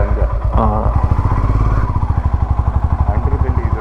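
KTM Duke motorcycle with a stock bent exhaust pipe idling and blipping up close, a loud steady pulsing thump with a brief rev near the start, alone and up front.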